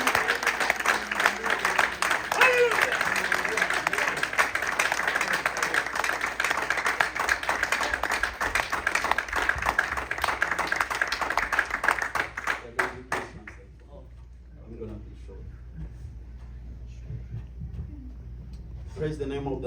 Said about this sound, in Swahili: Na kwa hiyo mtanisaidia tumchapie Mungu wetu makofi.